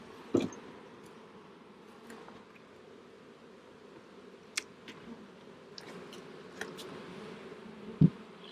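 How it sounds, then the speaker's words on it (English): Honeybees buzzing around hives in a bee yard, a soft continuous hum of many insects with occasional louder passes and faint clicks, heard alone at low level. "there'll be a lot of bees coming back to this hive"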